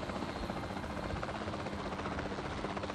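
Helicopter engine in the video game Jurassic World Evolution, a steady, loud rotor drone and whine that holds unbroken from start to finish with no talking over it.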